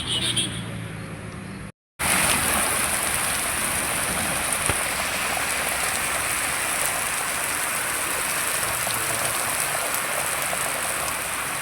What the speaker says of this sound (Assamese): পৰিছে বৰষুণ।